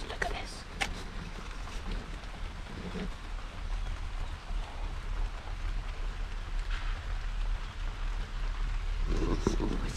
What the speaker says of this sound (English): it's just started raining really heavily